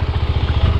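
A heavy motorcycle stuck in mud chugs close by, its engine giving a rapid, low, pulsing throb in a brief burst with no speech.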